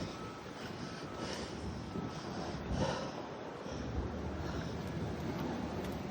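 Wind gusts across a microphone outdoors, a steady broadband roar that swells and eases slightly, close and even throughout with no clear talk.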